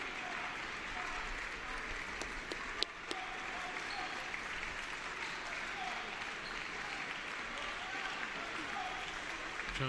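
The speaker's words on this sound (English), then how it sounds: "Huge round of applause here from the crowd." A crowd at a women's college basketball game gives a long, steady round of applause that fills the whole stretch, with a commentator talking over it.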